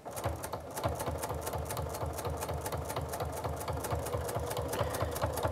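A sewing machine stitches bias binding onto fabric, running at a steady fast rhythm of even mechanical pulses throughout, close and unbroken, with no talking.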